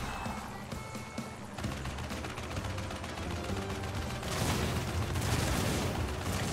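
Shooting at blimps in Crash Bandicoot N. Sane Trilogy: a steady, busy wash of game effects with rapid popping shots and thuds, swelling louder toward the end, with no voices.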